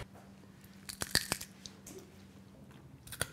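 Crunchy bites into Marathi sandgi mirchi, a dried stuffed chili: a few sharp, close crunches in quick succession near the middle and one more at the end, in a quiet room with no talking.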